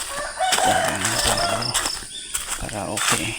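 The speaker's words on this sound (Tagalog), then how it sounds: "Dito marong mga ibon." Birds call and chirp in an outdoor morning spot used for jogging, with insects buzzing and rustling around them; someone talks briefly over the sounds at close range.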